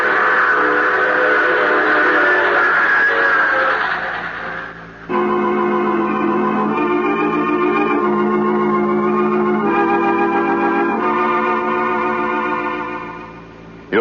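Steam-train effect from a radio drama: a whistle sounds for a few seconds, then the steady rolling clatter and chuffing of a running train continues loud and close, with a second whistle blast near the end.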